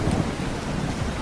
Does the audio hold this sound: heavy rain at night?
yes